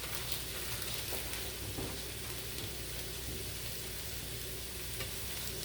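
Shredded bagged slaw mix fries in a crowded hot pan with a dense, steady crackling sizzle like rain, broken by faint stirring scrapes, close but fairly quiet, with no one talking.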